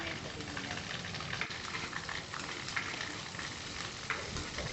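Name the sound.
frying chana dal, curry leaves, green chillies in oil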